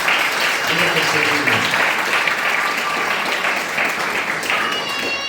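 A crowd applauding continuously at a missionary church gathering, dense steady clapping that fills the space and holds throughout with faint voices mixed in.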